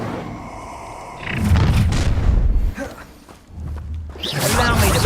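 An Incendio fire spell erupts in Hogwarts Legacy as a loud booming, roaring blast that swells and sustains for a couple of seconds, dips, then flares again with crackling bursts in the midst of combat.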